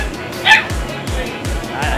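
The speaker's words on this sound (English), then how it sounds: "there's a dog on this train that is screaming very loudly." A dog aboard a train yelps and barks loudly in several short bursts, with a faint murmur of speech beneath.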